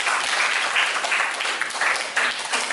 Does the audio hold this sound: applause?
yes